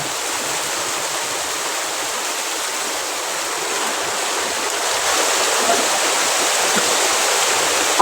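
The Mayabi waterfall at Jaflong roars in a constant, dense rush of water, steady and loud throughout with no voices.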